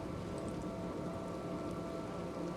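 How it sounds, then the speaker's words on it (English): Steady rain falls on the stormy planet Dromund Kaas in a Star Wars game, a constant, fairly soft patter with no distinct thunderclap and no voices. "The sky, the clouds, the rain, the thunder, that's all the work of the Sith Emperor when he first arrived here."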